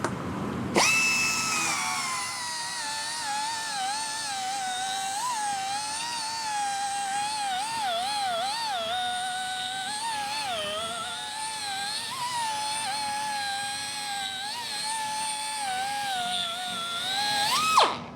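A rotary tool drives a Scotch-Brite pad across stainless steel toward a mirror polish, a loud continuous high whine with wavering pitch that starts abruptly, holds for about seventeen seconds and stops, with no voices.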